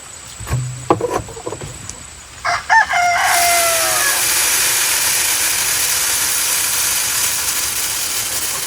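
In a homestead yard, chickens give a few scattered clucks, then a rooster lets out one clear crow, followed by a steady broad hiss that fills the rest.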